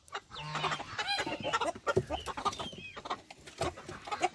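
Ameraucana chickens with muffs and beards cluck and chatter busily nearby on a farm, with overlapping calls from several birds and no talking.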